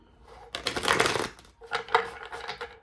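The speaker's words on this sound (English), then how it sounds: "Let's do one more shuffle." Cards being shuffled during a tarot reading, two quick riffling bursts separated by a brief pause, close and fairly soft.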